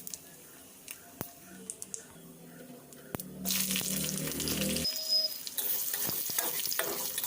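Bay leaf, dried chilli and whole cumin hit hot shrimp-frying oil and burst into a loud, close sizzle after a few quiet clicks and taps of utensils, then keep hissing steadily.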